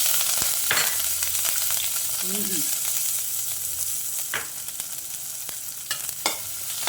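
Cumin seeds and green chillies fry in hot oil, a constant close hiss with sharp crackles and a few spoon knocks against the pan. No one speaks.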